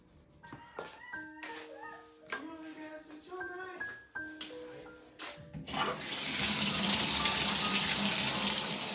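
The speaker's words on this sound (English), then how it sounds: "We need to take a bath, baby." Tap water runs steadily into a tub for a toddler's bath, rising to a loud, continuous gush in the second half after a stretch of child's chatter and household sounds.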